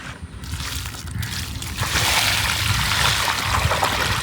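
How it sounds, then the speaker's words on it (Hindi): Water poured into a bucket of fertilizer to dissolve it, a sloshing, trickling stream up close that grows fuller and louder partway through and runs on steadily. "ये मैं बाल्टी में डालूंगा, फिर उसमें पानी डालूंगा"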